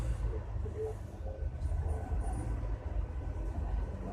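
A 1980 Melbourne tram rolls along in steady motion, its low continuous rumble and wheel noise filling the cabin with occasional faint squeals, loud and close throughout with no talk.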